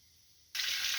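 Pork belly frying in a pan: after a quiet start, a loud, steady hiss of sizzling fat bursts in halfway through and keeps going, with no talking.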